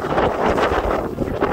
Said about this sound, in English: Listen to that howling wind.